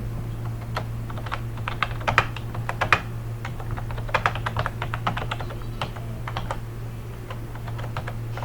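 Computer keyboard typing in an Ubuntu setting, irregular clusters of quick key clicks over a steady low hum, close and moderately loud, with no talking.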